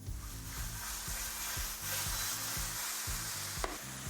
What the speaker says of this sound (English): We're just going to saute these mushrooms. We just want to cook these down.